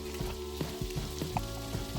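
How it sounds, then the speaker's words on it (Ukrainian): Onion cut in large pieces sizzles and crackles steadily in a hot pan, with a few soft stirring clicks. "Нарізану цибулю великими шматками теж смажу."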